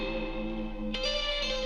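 An electric guitar sustains a chord drenched in reverb on an effects send, its tone ringing with a smeared, echoing wash; a new chord strikes partway through and blooms into the same lingering tail.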